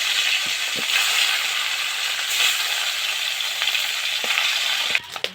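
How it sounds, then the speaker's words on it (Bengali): Chang fish frying in hot oil, a steady loud sizzle and crackle with occasional stirring clatter, ending in a few sharper knocks. "বাকি মাছগুলো আমি একইভাবে ভেজে নেব"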